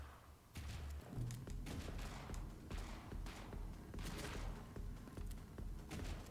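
Rapid bursts of AK rifle gunfire in a video game, quick dense rattling shots running almost continuously at moderate loudness, with no voice over them.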